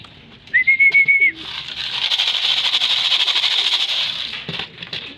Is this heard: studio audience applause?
no